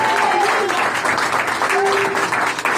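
A church congregation applauds enthusiastically, a dense steady clatter of many hands filling the space, with a voice briefly heard over it.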